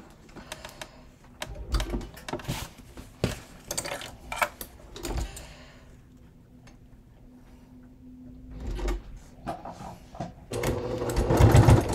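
Sewing machine fitted with a Teflon foot stitching leather at a longer stitch length, running in several short bursts of close, rapid mechanical clatter separated by pauses, with a longer steady run near the end.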